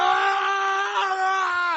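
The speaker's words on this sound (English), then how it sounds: "Let's listen to Scream Man." A man's scream sound effect rings out as one long, loud, sustained cry at a steady pitch, alone and close, dropping off sharply at the end.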